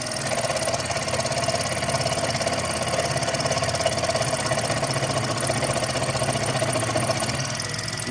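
Power saw cutting a letter shape out of a workpiece, a steady buzzing, rattling motor drone with rapid vibration held at moderate level throughout, no speech.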